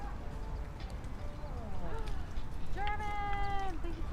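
Horse hooves clip-clop on pavement on an Easter Sunday walk through Exposition Park in Los Angeles, mixed with tonal whinny-like calls, street bustle and people talking nearby.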